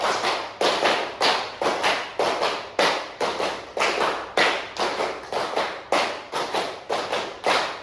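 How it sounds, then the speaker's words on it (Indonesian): Hands clap in a classroom, a long run of sharp, evenly spaced claps, well over five, sounding loud and close with no talk over them. "Nah, sekali lagi, tepuk 5 kali."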